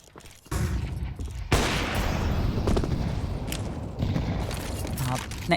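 Rapid gunfire from a competitive shooter video game during an ESL Impact League match, a dense sustained burst of loud shots and impacts that swells after the first second and keeps rattling to the end.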